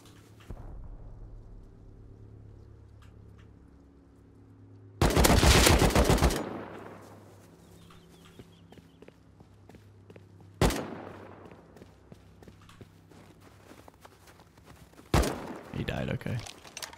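Incendiary-ammo gunfire in the modded survival game Rust comes as a loud sustained automatic burst followed by single sharp shots, with a player talking between them.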